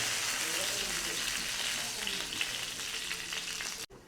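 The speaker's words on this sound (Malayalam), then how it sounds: "കറിവേപ്പില ഇട്ടതിന് ശേഷം നല്ലോണം ഇളക്കി കൊടുക്കുക" Shallots and curry leaves fry in hot oil with a dense, continuous close sizzle, stirred throughout for a beef and raw plantain masala, ending with a brief sharp knock.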